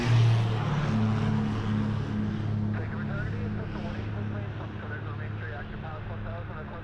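Piper propeller plane at Vancouver airport, a distant steady engine drone with a low hum, a person speaking over it.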